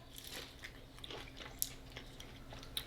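Crunchy seafood ceviche being bitten and chewed up close, with soft repeated crunches and mouth sounds running through the whole stretch and a couple of sharper clicks; no talking.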